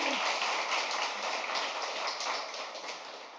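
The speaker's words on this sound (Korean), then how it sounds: "우리 좀 위로의 박수도 한번 더 가서 쳐주시기 바랍니다." Church congregation applauding during a Sunday worship service, a dense steady patter of many hands that stays fairly even throughout, fading slightly toward the end, with no voices over it.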